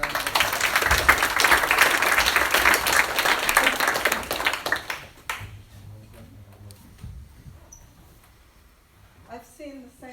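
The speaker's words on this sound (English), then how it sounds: "Let's give Gigi another round of applause." Audience applause at an interactive performance and community dialogue event, dense clapping for about five seconds that fades out, followed by quieter room sounds and brief talk.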